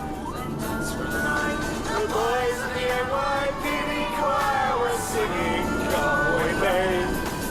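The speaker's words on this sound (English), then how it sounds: "Croxy and Sean are battling the traffic to sounds of sirens and some Christmas music." Wailing emergency sirens rise and fall over heavy road noise, loud and close, with several tones overlapping throughout.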